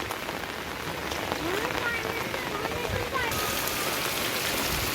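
Heavy morning rain pours down steadily on a surface nearby, a dense, continuous hiss of drops that stays loud and unbroken throughout.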